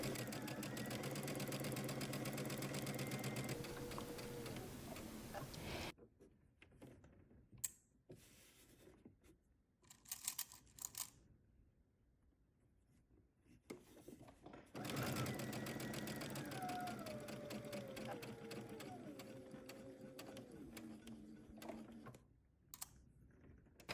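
A sewing machine runs a side seam on a summer dress skirt in two long steady stitching bursts, with a quieter pause between them where faint handling sounds and brief speech occur.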